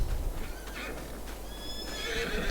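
Horses in the farming game Farming Simulator 22 neigh and whinny in high, wavering calls over a steady clip-clop of hooves and a low rumble, heard close and fairly loud.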